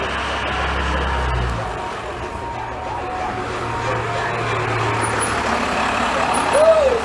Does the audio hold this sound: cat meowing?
no